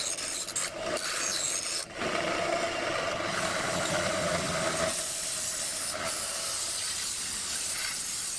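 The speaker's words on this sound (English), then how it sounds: "Anything that I can't get the grinder in, then I'll use a file." A hand file rasps steadily across a knife blade, a continuous gritty scraping with brief pauses between strokes, close and fairly loud with no talking.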